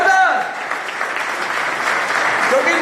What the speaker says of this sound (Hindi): जोरदार तालियां यार इन सभी के लिए, जोरदार